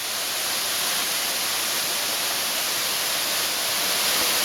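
Falling Edge waterfalls roar as a dense, constant rush of falling water, loud and close, with no break or voices over it.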